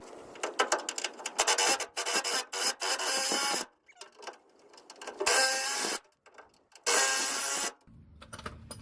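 A ratchet with 18 mm sockets works bolts loose on a Chevy S10/Blazer bumper, giving quick bursts of rasping clicks broken by short pauses, close and moderately loud, with no voices.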